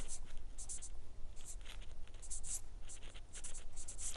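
Chalk or marker strokes writing a paragraph title on a classroom board during an English lesson, a steady run of short scratchy strokes with brief pauses between words.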